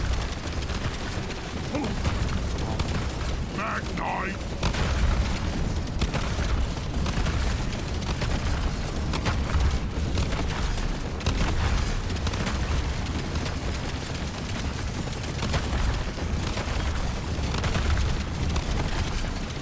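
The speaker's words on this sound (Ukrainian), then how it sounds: "Нереальна кількість вибухів." Dense, continuous rumbling explosions and bursts fill a chaotic firefight in the video game Deep Rock Galactic, loud and overlapping with no pause.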